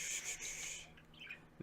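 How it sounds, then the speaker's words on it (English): Pet birds squawking and calling in the background, a dense burst of shrill high calls for most of the moment, then thinner chirps and a soft thump near the end. "my birds are going nuts in the background, as you can tell."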